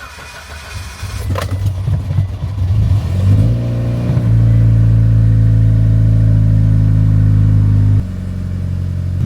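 A Mitsubishi Evo 8 starts in a garage after some rustling, its engine catching with a short rev before settling into a loud, steady warm-up idle close by, which drops slightly in pitch near the end.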